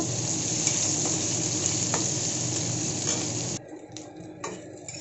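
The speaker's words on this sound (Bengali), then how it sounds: "এখন এখানে দিয়ে দিচ্ছি রসুন আর পেঁয়াজটা। এটাকে একটু হালকা করে ভেজে নেব।" Garlic and onion frying in oil over whole cumin seeds, a steady close sizzle with faint stirring ticks that suddenly drops to a quieter, patchy crackle partway through.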